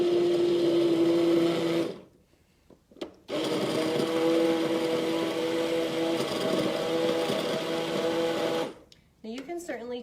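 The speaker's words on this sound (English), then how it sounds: "We're gonna use an immersion blender to blend this up." An immersion blender set around speed 6 whirs steadily through pumpkin soup, a loud continuous motor drone that cuts out briefly near the two-second mark, then resumes and stops near the end.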